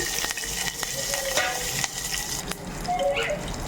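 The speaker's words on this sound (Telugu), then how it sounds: "తిరగమాత వేగిన తర్వాత మనం రెడీ చేసుకున్న బ్యాటర్ని ఇట్లా వేసేసుకోవాలి" Tempering spices and curry leaves fry in hot oil with salt and turmeric, giving a moderate, continuous sizzle broken by light spatula taps and clicks, close up and without speech.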